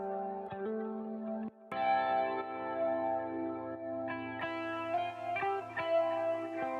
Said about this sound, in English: I'm gonna add more delay and see.